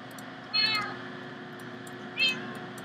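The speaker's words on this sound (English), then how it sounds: "Kitty, who just can meow" A cat meows twice, short and fairly close, with a pause between the two calls over a steady low background hum.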